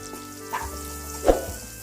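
Carrot rice with onions frying in a pan, softly sizzling at low volume, with a couple of brief stirring scrapes standing out over the quiet crackle.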